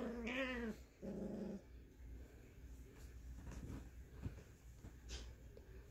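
A Scottish terrier mother and her six-week-old puppy play, making a couple of brief high whines and yips early on, then low, soft growling that runs on and off nearby.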